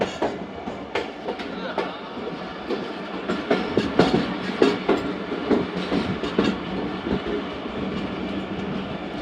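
The Tezgam passenger train rolls along from Karachi Cantt toward Multan Cantt, heard from inside an AC business coach with a loud, steady rumble and repeated rhythmic clacks of wheels over rail joints.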